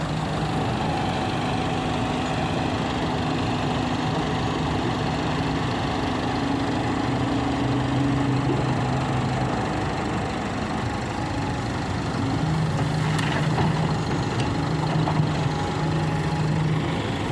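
A four-cylinder 115 engine runs steadily throughout, a continuous rough mechanical drone with a low humming tone that shifts slightly in pitch midway, with no speech.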